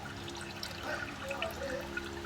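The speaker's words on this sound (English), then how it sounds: "I'm draining the Mechatronics fluid" Mechatronics fluid drains from a VW DQ200 gearbox in a faint, steady trickle and dribble of liquid into a container, quiet and close.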